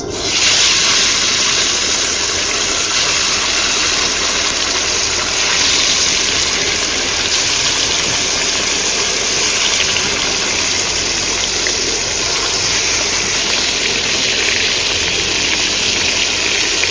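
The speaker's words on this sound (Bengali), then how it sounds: "মাছ কিন্তু ভাজা হয়ে গেছে, পুরো লাল লাল করে ভাজছি" Loud, continuous sizzling of fish frying in hot oil outdoors by a river, a dense, bright hiss that holds steady throughout with no talking.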